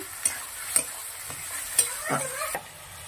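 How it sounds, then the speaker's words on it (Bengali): Mutton sizzles in a hot pan while spices go in and a spatula stirs, giving several sharp scraping strokes over a steady frying hiss, close and fairly loud. "ভাজা ভাজা হয়ে গেছে, এবার দিয়ে দেবো পরিমাণ মতো মশলা।"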